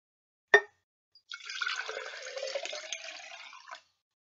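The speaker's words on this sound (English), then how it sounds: "Fill the large glass container or cup with water." Water pours steadily into a large glass container for a few seconds after a single sharp clink, a close, even liquid rush that stops abruptly.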